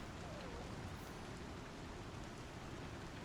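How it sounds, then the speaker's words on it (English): Heavy rain pours down outside a ship in the Star Citizen video game, a dense, even hiss of rainfall filling the short stretch without pause. "Yeah, it is raining like crazy in here."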